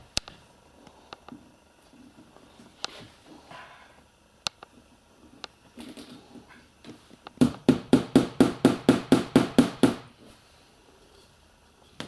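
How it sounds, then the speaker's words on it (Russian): A hammer drives nails through paper into a wooden board, first a few scattered taps, then a fast run of about a dozen sharp, evenly spaced blows, close and loud, with no talking. "ты прямо через бумажку прибивай, Володя"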